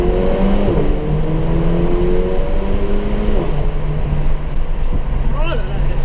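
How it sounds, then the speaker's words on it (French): A Mercedes A45 AMG with a 381-horsepower engine drives on the road with a loud, deep roar, its pitch climbing and dropping through several gear changes under constant road noise. "quand tu as un bruit sourd comme ça, un bruit d'un 45 qui arrive derrière toi"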